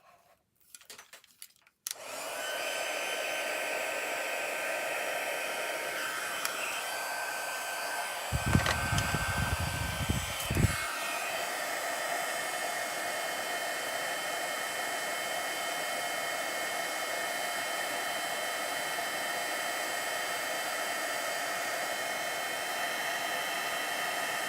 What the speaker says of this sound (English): here we go with the heat gun again